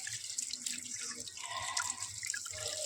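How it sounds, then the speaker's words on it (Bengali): Tap water runs and splashes in a sink while fresh whole fish are rinsed by hand, a close, continuous wash with small drips and handling noises. "চলো মাছগুলো নিয়ে ভালো করে ধুয়ে নিই"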